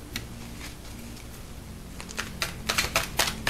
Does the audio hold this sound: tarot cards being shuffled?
yes